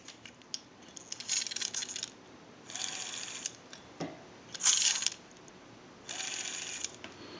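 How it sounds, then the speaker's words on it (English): Western Electric 302 rotary telephone finger wheel being dialed after adjustment: four separate bursts of whirring, clicking return as the dial spins back, each lasting about half a second to a second, close and clear with no talking. "we just have the finger wheel on to show you the dialing now"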